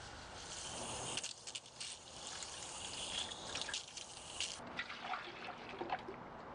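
Antifreeze and water draining from a Pontiac Vibe heater core hose into a bucket, a steady close trickle and splash that continues throughout, with no talking.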